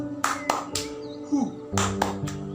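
Children in a third-grade Islamic studies class clap hands in two quick sets of three sharp, close claps, with voices chanting between and over them.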